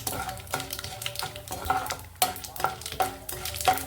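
Spices tempering in hot oil for a Telugu amaranth-leaf tomato curry crackle and sizzle close up, with a utensil stirring and scraping the pan in irregular strokes.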